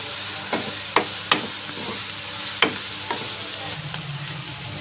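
Chopped onions frying in oil for egg curry, a steady broadband sizzle with a few sharp spoon clicks and stirring scrapes against the pan, close and moderately loud, no talking.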